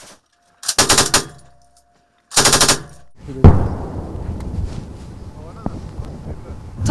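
Two loud bursts of rapid automatic machine-gun fire, each about a second long, followed by a heavy boom and a lingering rumbling echo outdoors in a military operation zone.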